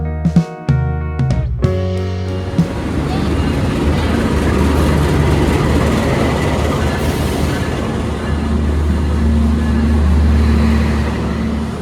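Sembrani passenger train of the Luxury Gen 2 class parked at Jakarta Kota station, its engine rumbling steadily and close by after a few sharp clanks at the start, a voice briefly audible.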